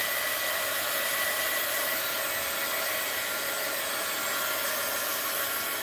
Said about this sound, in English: Let me dry this. Just a little heat gun alert.